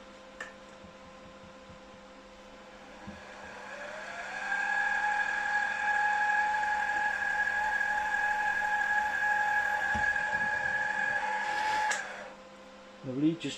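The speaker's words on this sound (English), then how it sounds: "So I'm going to drill for the piston rod." A steady mechanical whine of a drill cutting metal for a piston rod crosshead on a 2-inch scale Fowler showman's traction engine, starting about four seconds in and holding for eight seconds before winding down, over a low machine hum.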